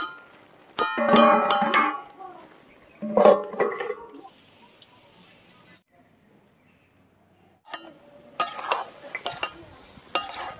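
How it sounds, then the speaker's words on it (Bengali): A spoon scrapes and clinks through young cabbage and potato curry in a pan, in three separate bursts of stirring with quiet gaps between, close and fairly loud. "এরকম নাড়া দিয়ে একদম সবকিছু দিয়ে ভালো করে মিশিয়ে আবার ঢাকা দিয়ে দেবো"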